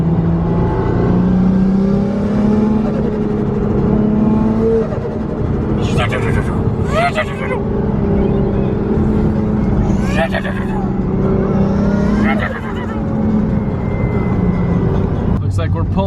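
Drift car on a track, its engine revving loud and close with rising and falling pitch as gears drop, a steady roar broken by several sharp bursts of rev; someone talks over it.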